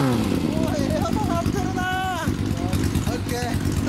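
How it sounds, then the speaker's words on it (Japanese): A fully customized 1996 Honda Steed 600 motorcycle idles with a low, steady pulsing engine and exhaust rumble, running continuously beneath close, loud conversation between several people. "エンジン音聞かせ"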